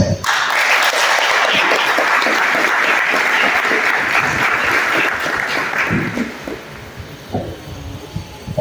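An audience applauds after a speech at a ceremony for a new professional communications team, with sustained clapping that fills the first six seconds and then thins out into scattered claps.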